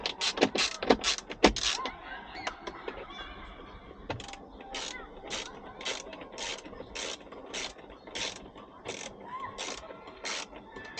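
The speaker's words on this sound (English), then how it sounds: "I'll use the ratchet to put them back into place" A ratchet clicks in quick bursts while tightening 7mm screws on a Jeep Wrangler speedometer faceplate, close and crisp, with a steady run of evenly spaced clicking strokes in the second half.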